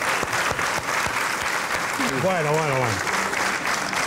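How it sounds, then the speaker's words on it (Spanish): An audience at a Canarian parranda folk music gathering applauds continuously and densely throughout, while a voice briefly speaks over the clapping midway. "Esta vez hay que aplaudir al público."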